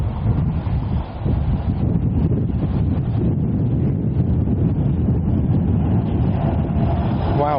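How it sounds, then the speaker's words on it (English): Strong gusting wind buffets the microphone on a city street in Toronto, a steady loud roar with low rumble throughout, and a brief lull near the one-second mark. "the wind is picked up"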